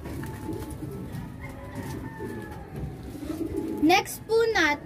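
Jacobin fancy pigeons cooing nearby, with soft calls through a murmuring background and two louder, clearer coos near the end.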